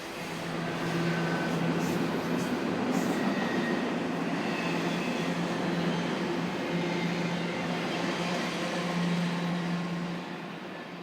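An eastbound Union Pacific freight train passes Barstow in the desert, a sustained rumble of rolling cars with a droning engine tone, heard from a hilltop at moderate distance and swelling then easing slightly.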